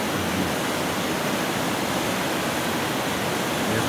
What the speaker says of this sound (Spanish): Nos acompaña el ruido del río.